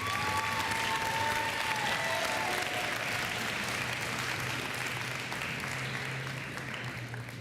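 A school fall sports ceremony audience gives the GOATs team sustained applause, with many hands clapping loudly and evenly, a brief whistle-like cheer near the start, and a gradual easing toward the end.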